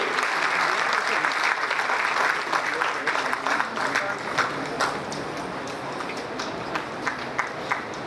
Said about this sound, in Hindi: एक बार जोरदार तालियां होनी चाहिए मिस्टर कृष्ण कुमार पांडे जी के लिए।